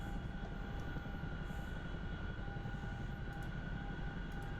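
Steady helicopter rotor and engine drone from a hovering aircraft in the DCS flight simulator game, a continuous loud mechanical hum with a constant whine above it and no talking.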